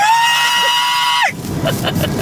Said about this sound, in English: Should we do practice screams?